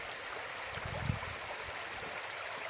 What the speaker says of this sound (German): Gemütlich am Bach zu sitzen,